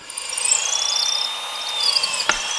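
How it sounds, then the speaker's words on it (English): A power drill fitted with a 1/4-inch brad point bit bores through wood, its motor whining loud and close with a rising, sustained pitch and a brief sharp knock near the end. "Now the drill is set up with a 1/4-inch brad point bit"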